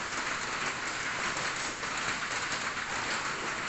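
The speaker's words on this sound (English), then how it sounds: "and let the rain fall where it may." Rain falls onto an awning in Cambodia, a constant broadband hiss and drumming that stays steady and fairly quiet throughout, no voices.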